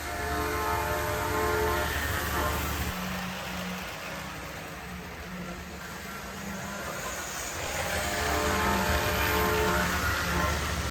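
A Tyco Mantua Alco C430 Rock Island diesel model locomotive rumbles steadily along its track, a continuous rolling hum that dips briefly then grows louder again, with no talking.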